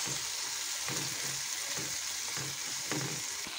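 Onions and tomatoes sizzle steadily in a hot pan, with a few soft stirring scrapes breaking through the constant frying hiss.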